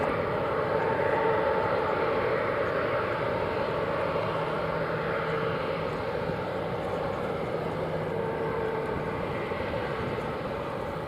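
Airliner landing on runway 07 at Montego Bay's Sangster airport on a sunny day, a steady broad engine roar that stays loud and constant throughout with no voices.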